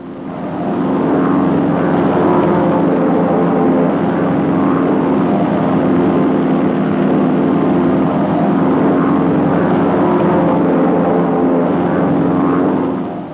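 North American Aviation T6 trainers fly in formation, their propeller engines making a loud, steady, droning roar that holds evenly with no talking over it.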